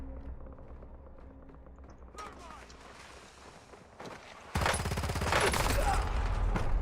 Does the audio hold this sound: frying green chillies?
no